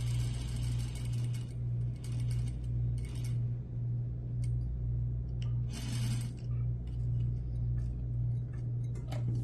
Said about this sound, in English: I'll keep stitching until I get to the end point, and then back stitch again